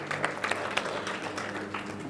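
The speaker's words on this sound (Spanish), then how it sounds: "quiero que le den un fuerte aplauso a todas las noches latinas por ese gran esfuerzo" An audience applauding at a Hispanic Week community committee event, a short burst of scattered clapping at moderate distance.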